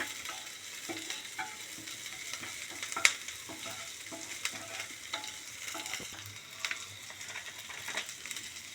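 Onion and curry leaves sauté in a pan with a steady soft sizzle, broken by scattered clicks of stirring and one sharp clink near the middle, with no talking.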